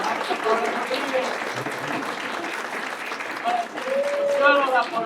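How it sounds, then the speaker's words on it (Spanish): An audience at a public consultation forum in Mexico City applauds to welcome a speaker, with sustained, fairly close clapping from many hands throughout and voices audible over it. "Por favor, démosle un aplauso"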